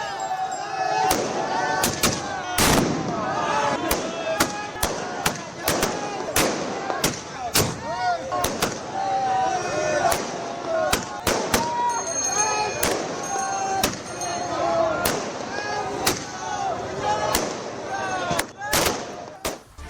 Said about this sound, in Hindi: लेकिन यहां पर अयोध्या में आतिशबाजी हो रही थी।